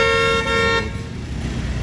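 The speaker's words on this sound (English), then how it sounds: "as soon as I say really social place, everyone starts honking." Car horns honk loudly on a busy street in P Burgos, one sustained blast for under a second, then fading into dense traffic rumble and street noise.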